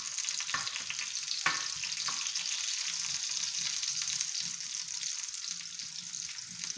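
Onions sizzle and fry in a pan for tawa qeema, a steady bright hiss with a few sharp clinks of stirring near the start, close and alone.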